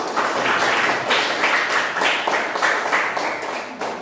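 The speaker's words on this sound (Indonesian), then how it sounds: "Ya, tepuk tangan untuk kelompok." A classroom of students applauds a group after its presentation, with loud, dense clapping that swells and dips in waves and then thins out slightly toward the end.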